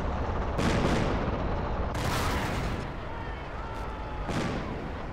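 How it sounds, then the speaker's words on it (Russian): Several heavy gunfire bursts crack out in Battlegroup 42, each a broad blast near 0.6, 2 and 4.4 seconds, with a rumbling battle bed between them and a faint voice underneath. "И может быть я как-нибудь чуть-чуть отсюда постреляю, пока там наши двигаются."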